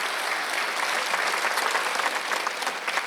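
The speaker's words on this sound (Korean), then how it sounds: "박수 치며 노래시기 바랍니다" Congregation applauding during a Sunday church worship service, a dense, steady wash of many hands clapping together from start to finish with no break.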